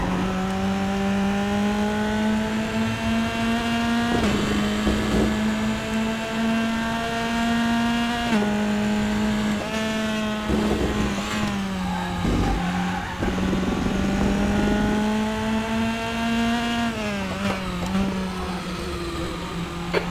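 A Formula 3 race car engine in the Raceroom sim racing game at Imola, held in 4th gear as a loud steady harmonic drone, pitch dipping briefly at shifts and lifts and rising again, with faint tyre scrub throughout.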